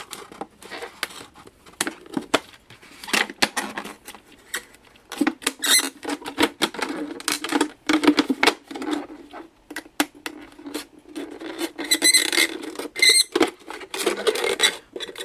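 Crisp, irregular snipping and scraping of an X-Acto knife blade cutting through a thin plastic soda bottle along a flap, close up, in short clustered bursts with no talking.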